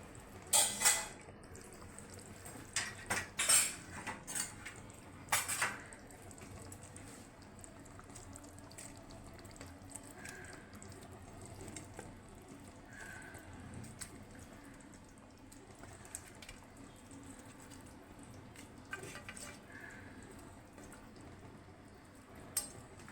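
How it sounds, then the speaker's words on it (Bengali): Katla fish pieces going into a simmering Bengali fish curry, with a few clinks of utensils and wet splashes early on, then quiet bubbling with occasional soft knocks. "এখন আমি মাছগুলো এর মধ্যে দিয়ে দেব।"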